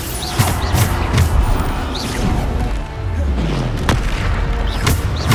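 Bombarda blasting spells in the Hogwarts Legacy video game burst as repeated booming explosions with crashing impacts, loud and close, a dense string of blasts over a rumbling battle background.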